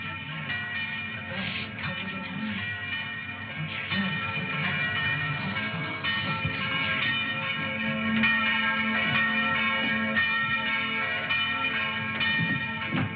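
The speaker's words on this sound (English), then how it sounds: "Did he ring the bell to say the gauntlet had come home?" A church bell in a 1952 film rings on continuously, its dense clanging overtones layered over a steady background rumble.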